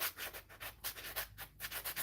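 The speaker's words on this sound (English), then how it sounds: "Hate sanding by hand" Wood being sanded by hand around curves and tight corners, a soft rhythmic rasp of repeated back-and-forth strokes, close and fairly quiet, with no talking.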